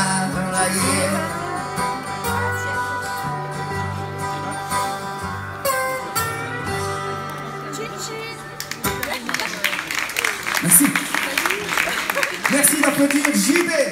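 Music at a concert in Toulon ends, and the audience breaks into applause, a broad rolling clatter of clapping that builds and continues to the end.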